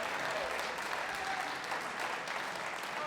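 A squash audience at the PSA World Championships keeps up a continuous, even wash of applause following a rally, with steady crowd noise and no break.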